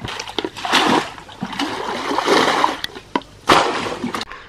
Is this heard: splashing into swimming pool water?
yes